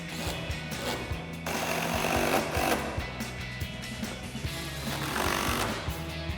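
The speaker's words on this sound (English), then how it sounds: "So we'll grab our T30 bit and tighten these back down." Screws on a Jeep Wrangler TJ bikini soft top being driven tight with a T30 Torx bit, giving a loud, close, continuous rattling tool whir that surges and eases in bursts with no speech.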